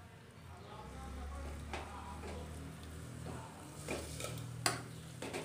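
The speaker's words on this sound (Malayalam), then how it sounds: "ഇനി കുക്കറിനകത്തേക്ക് നമ്മൾ ബീഫ് ഇട്ട് കൊടുക്കുന്നു." Beef pieces dropped into a pressure cooker on a lit stove for cashew nut beef biryani, a few dull knocks and scraping clatters over a steady low hum, with someone talking throughout.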